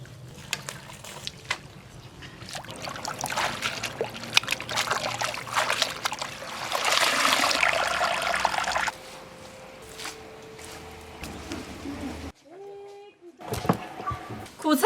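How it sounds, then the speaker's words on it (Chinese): Blanched bitter greens are rinsed in a basin of cold water, with splashing, trickling and dribbling sounds rising and falling up close while a voice talks at times. "把苦菜烫变色，捞到凉水盆里多洗几遍。"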